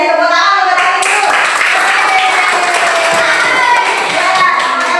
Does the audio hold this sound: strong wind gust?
no